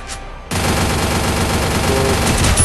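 Sustained gunfire in a first-person shooting video game, a dense, loud burst of rapid shots that starts abruptly after a quiet half-second and continues to the end without talk.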